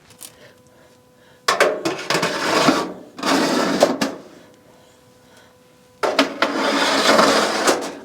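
Trays of jerky slid into a food dehydrator and the machine switched on: quiet clicks, then clattering handling noises in two bursts and a steady whirring fan hum at the end.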